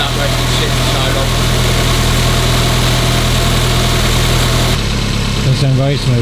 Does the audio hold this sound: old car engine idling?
yes